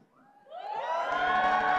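A studio audience at a live talk show swells into screaming and cheering over about two seconds, shrill voices building to a loud sustained roar with some rhythmic clapping underneath.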